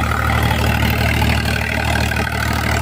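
A new Eicher 551 tractor with the silencer taken off runs at a steady throttle, its raw, open diesel rumble loud and close throughout, pulsing evenly with no voices.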